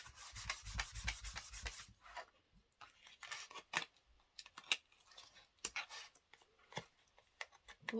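Glued paper backing pressed and rubbed down inside a handmade album: a dense, close scratchy rubbing for about two seconds, followed by scattered softer scrapes, taps and handling noises.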